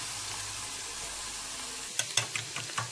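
Onions sizzle and fry in hot oil in a pan, a steady close crackle that shifts into sharper bursts of spatter and stirring near the end.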